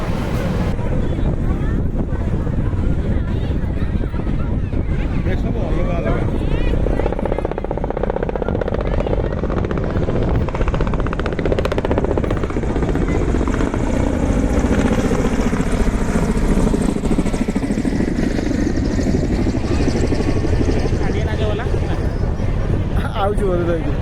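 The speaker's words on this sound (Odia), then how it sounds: "ଆଉଛି ବୋଧେ ଯାଇକି ଏସବୁ ଅଲଗା ଅଲଗା ହେଲିକପ୍ଟର।" Several helicopters fly overhead in a loose group, a steady low rotor drone that swells and fades across the sky, roughened by wind buffeting on the microphone.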